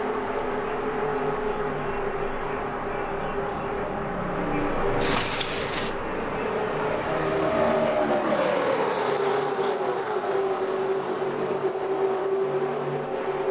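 NASCAR Cup cars at the 2007 Budweiser Shootout roar around the track in a loud continuous drone, with a sharp burst of engine noise and a rising, sweeping pass as a car slides sideways, crowd and engine wash throughout.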